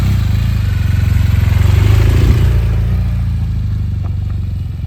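A motorcycle rolls off after being lifted upright, its loud steady engine running throughout with a rhythmic pulsing beat and a brief clatter midway, then easing slightly toward the end.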